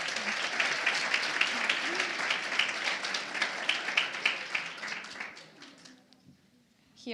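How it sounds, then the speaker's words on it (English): Warm audience applause welcoming a presenter at an education workshop, dense steady clapping from a room of people that tapers off near the end before a voice begins. "I would like a very warm applause to welcome our first presenter, Ivona."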